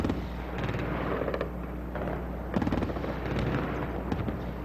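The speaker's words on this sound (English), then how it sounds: "The fiercest anti-aircraft fire of the day." Distant anti-aircraft fire over Baghdad rumbles and pops in irregular bursts against a steady hum of background noise, with no talk.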